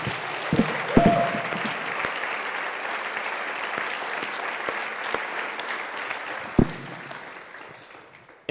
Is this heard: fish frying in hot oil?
no